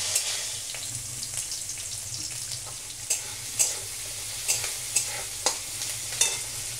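Pieces of taro (kochu) fruit frying in oil in a pan, a steady close sizzle with scattered sharper pops and crackles throughout, no voices.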